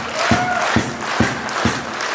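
A concert audience responds with rhythmic, evenly spaced claps about half a second apart over a steady crowd murmur, loud and close.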